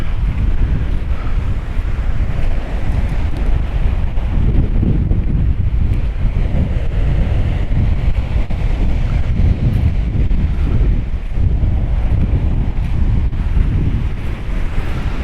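Strong wind at Pomos Harbour roars constantly against the microphone, a heavy low buffeting that never lets up.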